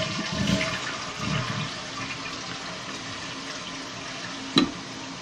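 A 1995 Vitromex Marathon toilet, apparently clogged, flushes with a steady, fairly quiet rush of water. Brief gurgles come early, and a sharp knock sounds near the end.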